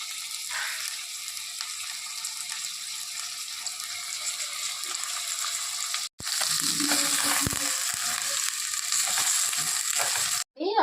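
Chopped tomatoes and onions frying in a pan for a prawn curry, a continuous loud sizzle with stirring scrapes and clatter, broken by two brief silent gaps, heard alone up close.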